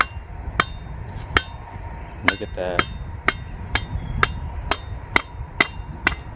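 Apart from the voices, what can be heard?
hammering to split wood with a knot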